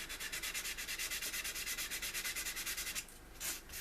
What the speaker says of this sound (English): I've got to find this piece of sandpaper so I can just sand here